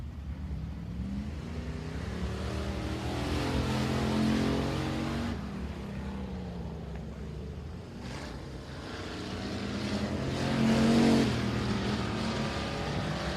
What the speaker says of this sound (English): The 34th car to hit the racetrack for the factory stocks as the second round rolls on.